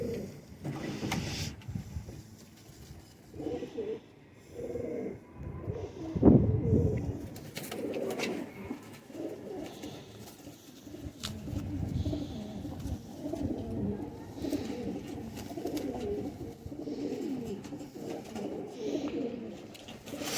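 Racing pigeons coo steadily in soft, low repeated phrases, several birds overlapping at close range, with a brief louder flutter partway through.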